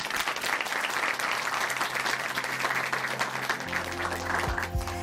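A church congregation applauds, a dense, continuous wash of many hands clapping at full strength, with a low sustained musical tone entering toward the end.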